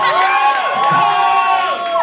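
A large crowd cheers and whoops enthusiastically in support of a contestant at a beer-drinking event, loud overlapping shouts and high-pitched yells.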